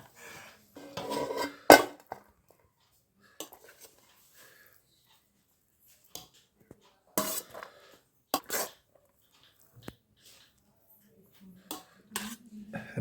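Mutton biryani is served out of its cooking pot with sparse, separate scrapes and clinks of a serving spoon against metal, close and quiet, with long pauses between strokes.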